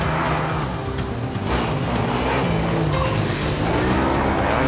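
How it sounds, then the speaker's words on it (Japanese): A student formula race car at the Japan Student Formula competition roars loudly and steadily at close range, its engine note dropping and shifting as it brakes, with faint tire noise underneath. "ブレーキングの音もしっかりと聞こえてきます。"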